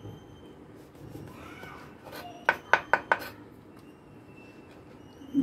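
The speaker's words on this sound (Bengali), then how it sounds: "এবার আমি এই 4 পিস ব্রেডকে কেটে নেব।" A knife trims the crusts off four slices of bread on a board: four crisp, quick taps in a tight row, with quiet kitchen room tone before and after.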